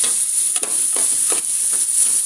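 Tomatoes hiss and crackle as they are fried with onion for a curry, a steady sizzle with a few soft stirring scrapes.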